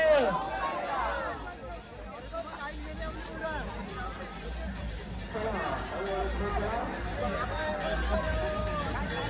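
A dense crowd at a Ganpati immersion procession in Mumbai, with continuous babble of many voices, people talking and calling out nearby, and a steady hum of the packed street.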